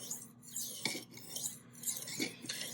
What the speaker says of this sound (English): What I like about the ceramic stones too is you can kind of hear like the burr popping off sometimes.